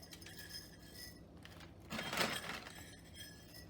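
Dry breakfast cereal tips from a measuring cup into a glass already layered with yogurt and blueberries, a short rattling, clinking pour of under a second that rises from a quiet room, with no talking.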